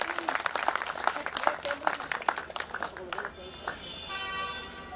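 An audience claps for a speaker at a public gathering, with crisp scattered claps that thin out as a voice begins talking over a lingering hum.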